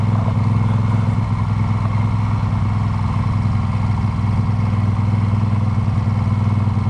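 A motorcycle rides along an old stretch of Route 66, its engine droning steadily and loudly throughout with constant wind rush and no talk.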